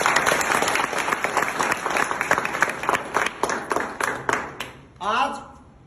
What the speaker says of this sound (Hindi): इस गांव के लिए एक बार जोरदार तालियां होंगी।